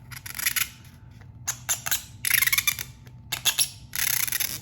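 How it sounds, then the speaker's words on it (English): A blade, likely scissors, cuts straight down along a drawn line in a series of short crisp snips and rasping strokes, close and fairly clear against a quiet room. "I essentially just cut on the line straight down,"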